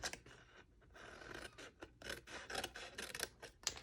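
Scissors snip and rasp through the flaps of a paper treat box, a run of quiet irregular cuts and scraping strokes close by with no voices.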